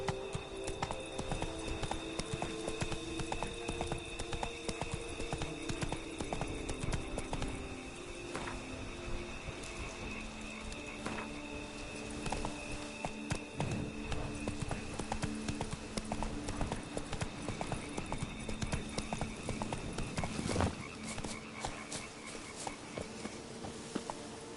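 Hooves of Roach, a horse in The Witcher 3, clip-clop in a steady walking rhythm through the whole stretch, with insects and crickets faintly chirping behind and a low ambient game score underneath.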